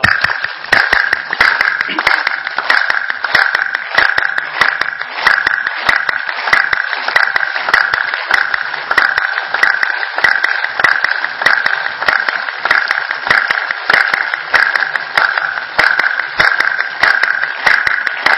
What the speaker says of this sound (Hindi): और अब 30 दफा जम के पूरी ताकत से पूरा ताली बाजन कीजिए